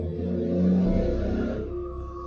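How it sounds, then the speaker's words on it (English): A very loud car passing by outside, a low rumbling engine drone that swells to a peak and then fades away over about two seconds, with no talk over it. "car going by"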